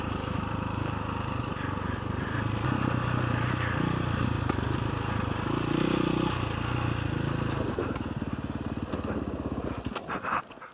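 A KTM 525 EXC enduro motorcycle revving offroad on an Algarve trail, a steady loud engine drone with rising and falling throttle, close up, fading into scraping clatter near the end.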